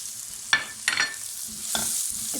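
Onion frying in a tablespoon of oil with chicken, a steady close sizzle with a few sharp stirring scrapes and clatters at irregular moments, no voices.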